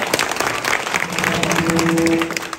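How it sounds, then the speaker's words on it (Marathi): An audience at a kirtan breaks into loud, dense clapping that holds steady for a couple of seconds, close and unbroken. "मग एकदा जोरात टाळी वाजवा त्यांच्या"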